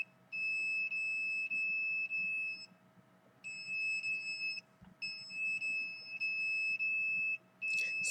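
An electronic alarm beeps in repeated high-pitched tonal bursts. Three long runs of rapid beeping are separated by short pauses, clear and fairly close in a quiet room.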